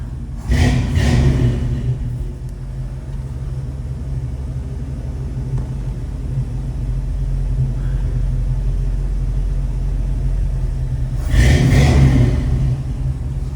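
A restored 1970 Ford Bronco 4x4 with a 302 V8 runs with a steady, loud low rumble, swelling into two brief revs near the start and again near the end.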